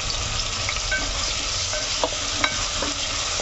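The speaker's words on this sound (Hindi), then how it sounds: "इसके अंदर जो मैंने चॉप्ड ऑनियन रखी हूँ वो डालेंगे हम" Chopped onions go into a pan of hot oil where garlic and ginger are already frying, giving a loud, close, steady sizzle broken by a few scraping stirs of the spoon.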